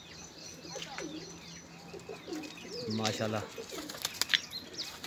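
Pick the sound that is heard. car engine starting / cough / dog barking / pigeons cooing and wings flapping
pigeons cooing and wings flapping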